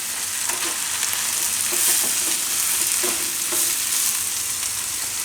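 Chopped onion, garlic, ginger and chillies fry in a pan with a close, steady sizzle, punctuated by light scraping ticks as the mixture is stirred.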